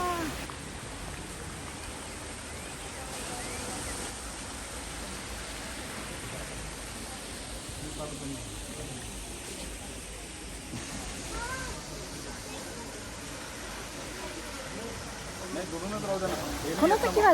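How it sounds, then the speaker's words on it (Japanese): An artificial waterfall built of rock in a rock garden rushes with a steady broadband hiss of flowing water, with people talking over it at times. "すごい、滝の水がせせらぐいい音がしますね。"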